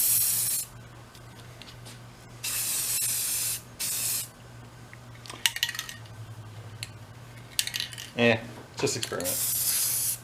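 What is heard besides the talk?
spray painting a second coat on a Snap-on toolbox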